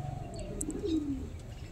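A Kasuri pigeon gives one soft, low coo that falls slightly in pitch, close by and quiet, with no talking.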